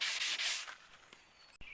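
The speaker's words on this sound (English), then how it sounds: "your next step is going to be sanding the edges" Brief rough rubbing strokes of sanding the edges of a wooden board, a few quick rasps close by that fade, followed by a sharp knock.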